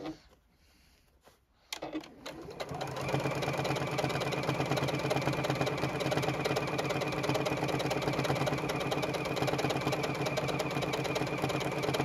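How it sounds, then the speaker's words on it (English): A JUKI sewing machine stitching a quarter-inch seam around the outer edge of a bucket hat, starting after a quiet pause and then running with a steady rapid mechanical whir and clatter at close range. "I will be sewing a 1/4 inch seam allowance all around that outer edge"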